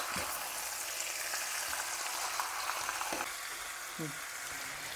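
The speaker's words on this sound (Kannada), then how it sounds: "ಹಾಗೆಯೇ ನೀರೇನು ಹಾಕಬಾರ್ದು, ಹಾಗೆಯೇ ಒಂದು 10 ಮಿನಿಟ್ಸ್ ಇದನ್ನ ಫ್ರೈ ಮಾಡ್ಕೋಬೇಕು." Chicken frying without water for Kodava-style koli curry, a dense constant sizzle at moderate level, with a few faint spatula knocks and no clear speech.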